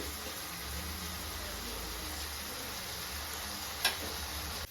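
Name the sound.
moringa leaves frying in a pan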